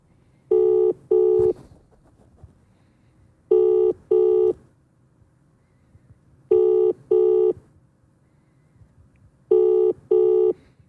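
A telephone rings in repeated double bursts, four pairs evenly spaced with short quiet gaps between them, clear and fairly loud.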